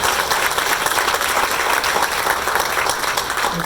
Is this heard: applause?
yes